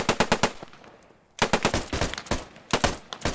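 A machine gun fires in Post Scriptum, a World War II shooter game, in three sharp bursts of rapid shots with short gaps between them, close and loud.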